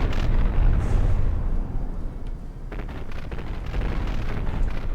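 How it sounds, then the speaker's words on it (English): Torpedo hits on a battleship in a naval video game erupt as heavy, rumbling explosions, a loud blast followed by rolling booms and crackling debris that keep going. "Oh no, we just had another couple torpedo hits"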